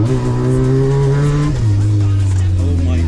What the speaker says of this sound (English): lowered MX-5